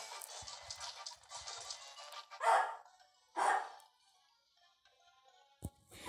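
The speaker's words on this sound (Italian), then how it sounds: "il cane abbaiava come se non ci fosse un domani" A dog gives two sharp, separate barks a second apart, fairly close and moderately loud, within otherwise quiet surroundings.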